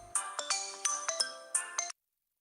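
A mobile phone ringtone plays a bright, repeating melodic pattern of quick tones, close and clear, for about two seconds before stopping abruptly, with no one talking.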